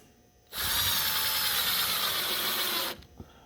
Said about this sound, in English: Now we're going to put the last few screws in.